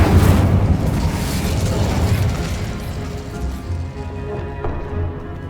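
Fire spell cast in the Hogwarts Legacy video game, heard as a loud, sustained roaring burst of flame with rumbling booms that gradually tapers off, accompanied by a few crackling pops near the end.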